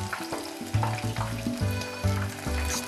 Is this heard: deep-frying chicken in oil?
yes